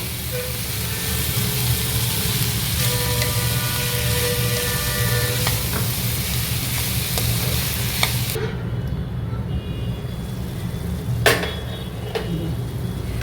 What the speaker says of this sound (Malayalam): അതിലേക്ക് ഒരു 2 ടൊമാറ്റോ ചോപ്പ് ചെയ്തത് ഇടുക. എന്നിട്ട് ഇത് വീണ്ടും വഴറ്റുക ആ ടൊമാറ്റോ സോഫ്റ്റ് ആകുന്നത് വരെ.